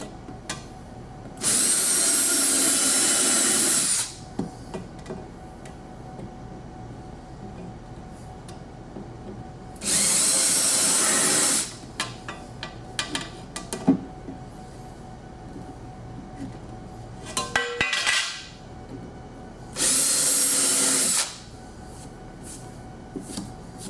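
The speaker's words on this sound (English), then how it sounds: "using the 1 1/4 screws, I'm going to screw down the deck filler" Power drill driving 1 1/4 inch screws down into a sliding door deck filler, three loud whirring bursts of a couple of seconds each, separated by quieter handling clicks and rustle.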